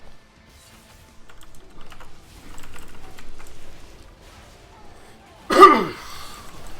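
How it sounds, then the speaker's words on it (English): A single sharp, close burst of throat clearing or coughing breaks in near the end, after quiet keyboard typing during a game stream. "Or I gotta clear my throat every now and then if I don't actually cough."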